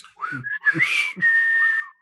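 A person whistles a few short, uneven notes with breathy gaps, then holds one steady, sustained tone, close and clear.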